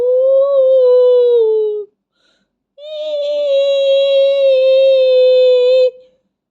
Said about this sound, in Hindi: उसने कुएं में किसी के रोने की आवाज सुनी।